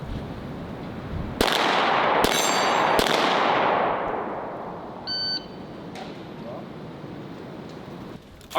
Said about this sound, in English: I'm gonna fire 3 rounds within 6 seconds.